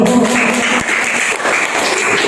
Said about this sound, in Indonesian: beri tepuk tangan di kelompok 1